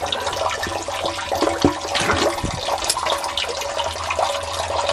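Water gushes and splashes out of a sump pit as the pump is pulled loose, a close, churning rush with gurgles and a few heavier sloshes, with no talking.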